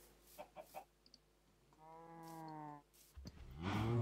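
A chicken in a video game gives a few short clucks followed by a drawn-out, tonal squawk, with a louder game noise swelling at the close.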